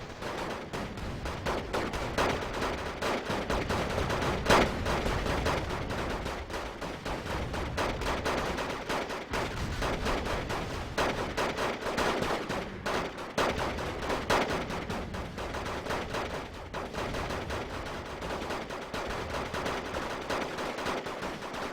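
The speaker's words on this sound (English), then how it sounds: "Now most of the troops actually shooting." Infantry gunfire in the Wargame Red Dragon video game: continuous overlapping rifle and machine-gun shots crackle without pause, dense and fairly loud, with scattered heavier reports mixed in and no talking.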